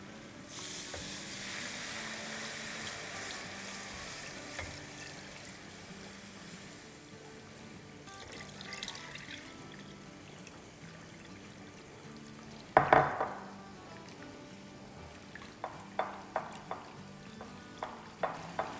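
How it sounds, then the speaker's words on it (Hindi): Milk is poured into a simmering onion sauce in a pan while a spoon stirs it, giving a soft hiss and bubbling, followed by a series of sharp spoon clinks against the pan. "इसको एक हाथ से डालेंगे और एक हाथ से चम्मच चलाएंगे।"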